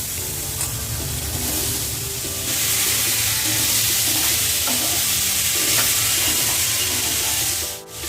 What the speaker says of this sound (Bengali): এবার আমি পেঁয়াজের পেস্টটা তুলে দিলাম পেঁয়াজটা একটু হালকা করে ভেজে নিয়ে